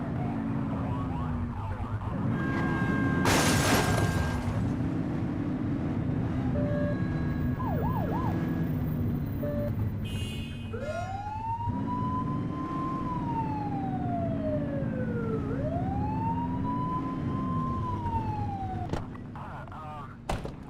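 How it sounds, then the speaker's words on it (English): A police car siren in the video game The Precinct wails and yelps with rising and falling sweeps over engine and traffic noise, loud and close, with speech in places. "You're only meant to use the siren in emergencies."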